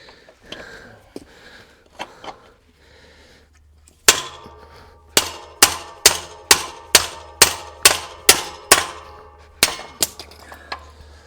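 Repeated hammer blows on a bicycle bottom bracket being loosened, a run of about a dozen loud, sharp metallic strikes in steady rhythm after some quieter handling noises.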